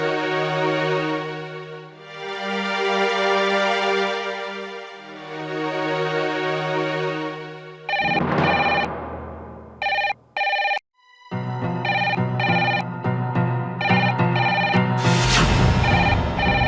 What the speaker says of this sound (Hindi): फिर इस वक्त ऐसे लैंडलाइन पर कौन फोन कर सकता है?